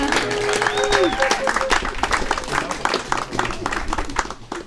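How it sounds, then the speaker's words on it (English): Wedding guests at a couple's ceremony applaud in a dense, steady round of clapping that fills the whole stretch, with murmured voices and a few cheers mixed through it. "Give yourselves a round of applause for being here."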